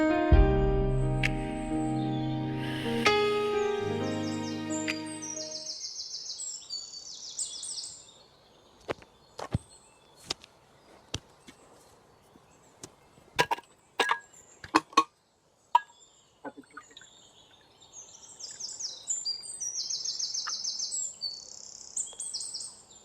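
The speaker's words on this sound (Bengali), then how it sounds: "পাখির কিচিরমিচির।" Small birds chirp and tweet in high, bright bursts, some near and some farther off, after a brief stretch of music fades out; scattered sharp clicks and taps punctuate the quieter middle section.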